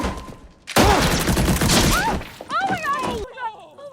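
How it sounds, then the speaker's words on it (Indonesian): Real pistol gunshots in a film scene: a loud burst of sharp, rapid shots erupts after a quiet start, followed by crashing and breaking sounds with shouting voices over the tail. "Parker menembak Rehan dan anak buahnya hingga maut"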